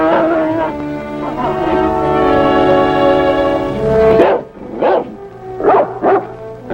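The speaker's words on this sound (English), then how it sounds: "The howling dog started it all." A dog howls in a long sustained wail over a Western show's music bed, then barks several times in short loud bursts near the end.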